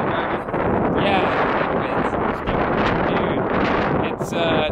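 Strong outdoor wind gusts of around 72 miles an hour roar and buffet the microphone continuously, with rustling and a voice speaking briefly under the noise.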